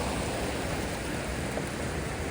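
A waterfall in Marinette County pours in a steady, broadband rush of water, loud and unbroken throughout the brief stretch.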